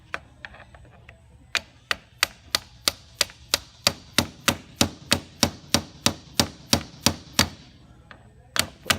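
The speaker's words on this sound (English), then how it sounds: "gave it a couple whacks with the dead blow here, and I think it's going to come out now" Repeated whacks of a dead blow hammer on the bearing race inside a Subaru Sambar KS4 CV joint, about twenty sharp, evenly spaced metallic knocks, close and loud, in a steady rhythm with no talk.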